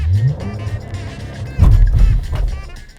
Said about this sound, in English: 2022 Cadillac CT4V. Blackwing manual with launch control.